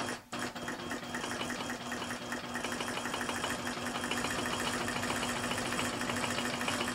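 A Helen's iQ computerized quilting machine stitches an applique, giving a steady mechanical hum with a fast, even pulsing rhythm that runs continuously at close range.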